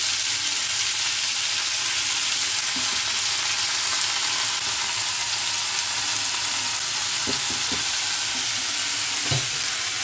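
Fresh spinach (palak saag) dropped into hot oil with green chillies and tempering sizzles steadily and loudly up close, a dense continuous hiss with a few soft clicks of stirring, no voices.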